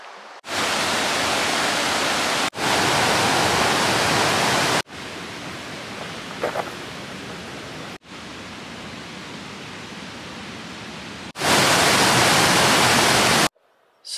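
The River Tees flows steadily nearby in Teesdale, a constant broad rushing and splashing with no pauses, level shifting between sections and no voices.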